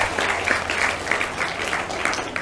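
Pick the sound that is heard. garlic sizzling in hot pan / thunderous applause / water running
thunderous applause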